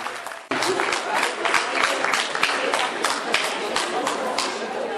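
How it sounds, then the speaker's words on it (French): A crowd at a Téléthon charity event in Villabé, France applauds loudly and steadily, many hands clapping together in a dense, continuous burst that begins abruptly after a brief quieter moment. "Stéphane Bodec, vous pouvez accueillir bien fort, viens jusqu'à nous."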